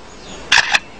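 A lyrebird imitating a camera shutter: two quick, bright mechanical clicks about a quarter second apart, fairly loud against a quiet forest background.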